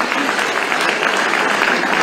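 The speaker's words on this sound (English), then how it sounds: "let's give a round of applause to Northwest." A crowd at an ANC political roll-call event for candidates breaks into loud, steady, continuous applause, a dense wash of clapping with no pauses.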